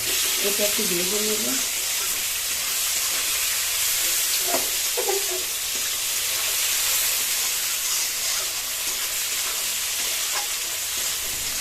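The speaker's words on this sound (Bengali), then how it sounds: "এখন আগে দিয়ে দিল টমাটো আর পেঁয়াজ" Onions and tomatoes frying in hot oil with bay leaf for a Bengali egg and eggplant curry, a loud steady hiss and sizzle throughout, with a few brief voice sounds early on.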